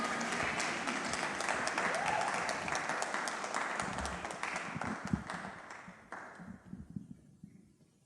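Audience applause at an International Women's Day evening event, a room full of steady clapping that swells and then gradually thins and fades out, with scattered individual claps near the end.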